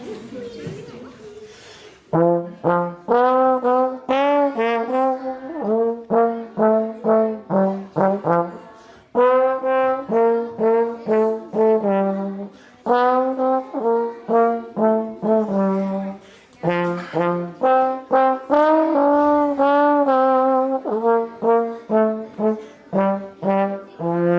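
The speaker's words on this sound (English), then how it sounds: "this is the trombone, and you can actually slide into the notes." A trombone plays a simple melody of sustained notes that slide smoothly from one pitch to the next, with brief breaks between phrases.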